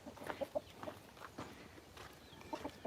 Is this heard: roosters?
yes